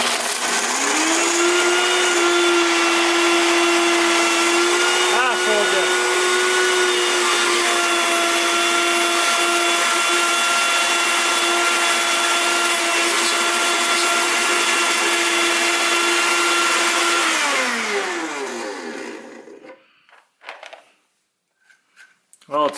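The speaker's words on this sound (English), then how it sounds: "Let's see if it blends." Up close, a Blendtec Classic 575 blender roars at a steady high pitch for nearly twenty seconds while blending ingredients, with a brief shift in tone early on, then winds down and stops, leaving near silence.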